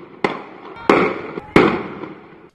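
Three sharp, loud gunshots about two-thirds of a second apart, each trailing off in an echoing decay.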